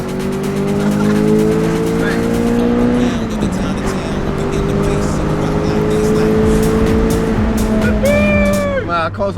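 A Peugeot 306 GTI with a bespoke custom exhaust, on semi-slick Nankang tires, accelerates hard; its engine note climbs through gears, loud and close, with tire squeal near the end.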